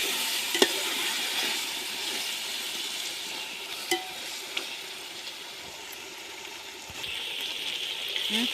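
Curd being stirred into mushroom biryani in a pot, a soft continuous sizzle with occasional faint clinks and scrapes of a spoon.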